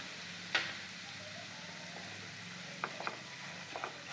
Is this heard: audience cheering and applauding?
no